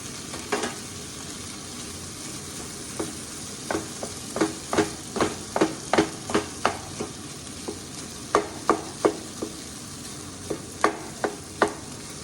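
Boiled potato and tomato being mashed in a pan for pav bhaji, a soft sizzle underneath a string of sharp metal taps and scrapes from the masher striking the pan in an irregular rhythm.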